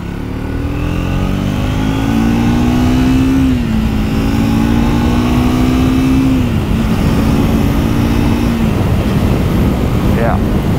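A 2024 Triumph Speed 400 motorcycle engine runs loud and steady, its pitch climbing and then dropping sharply at two gear shifts before settling again, with a brief faint whine near the end.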